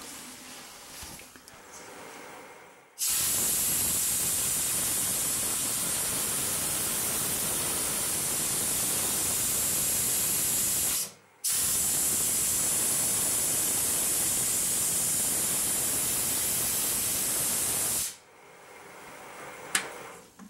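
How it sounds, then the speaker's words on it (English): Short blasts from a high-pressure air hose blow powder out of oak: two long, loud, steady hissing rushes about eight and seven seconds long, split by a brief gap, with quieter workshop room sound before and after. "maybe I should have used the high pressure hose and see if I could blow some of that out"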